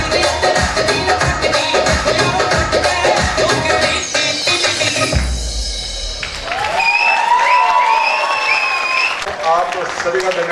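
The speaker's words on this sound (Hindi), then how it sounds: "आपने तालियों से उत्साहवर्धन किया" Audience applause at the Chandigarh ZO & CO cultural meet, dense crowd clapping for about five seconds, then fading into a quieter stretch with a voice and music.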